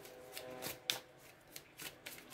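Tarot cards being shuffled in a few quick, soft riffling bursts, close and quiet.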